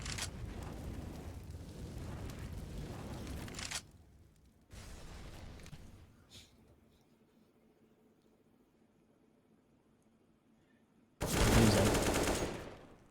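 Gunfire in Counter-Strike on the Dust 2 map during a competitive match: a dense burst of rapid shots for several seconds, a shorter volley after a pause, then quiet before a loud final barrage.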